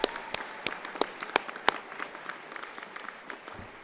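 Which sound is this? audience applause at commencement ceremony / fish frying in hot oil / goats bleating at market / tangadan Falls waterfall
audience applause at commencement ceremony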